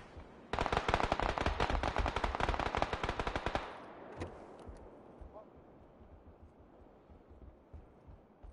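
Rapid automatic machine gun fire from a video game, a dense loud burst of about three seconds that stops abruptly, followed by a lone shot and quieter game ambience with faint thuds.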